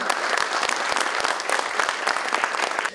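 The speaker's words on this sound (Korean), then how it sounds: "모두 따뜻한 박수로 맞이해 주시기 바랍니다." Warm applause from an audience at a Korean local-council policy forum, a steady dense patter of many hands clapping throughout, fairly near and without pauses.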